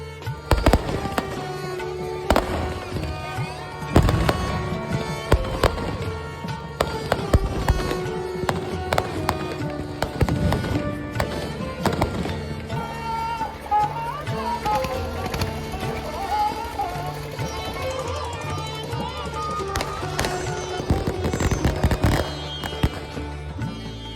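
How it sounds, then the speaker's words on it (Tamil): Firecrackers burst in sharp, irregular bangs at a Lachadeepam temple float festival, scattered through a busy, layered background of festival noise with some tonal sounds. "நிறைய பட்டாசுலாம் வெடித்து பார்க்கவே ஒரு மாதிரி சூப்பராக இருக்குங்க"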